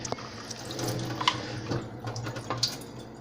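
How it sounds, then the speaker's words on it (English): Water runs from a tap into a filter jug, splashing and trickling close by with a few brighter drips, no speech. "Fill it with filtered water."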